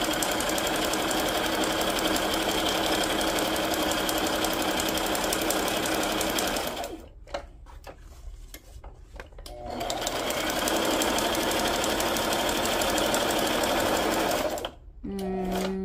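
A sewing machine stitches in fast, loud, continuous runs, pausing for a few seconds in the middle and again briefly near the end, with faint handling noises in the gaps.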